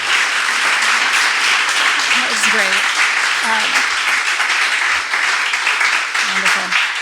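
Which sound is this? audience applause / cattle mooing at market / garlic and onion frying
audience applause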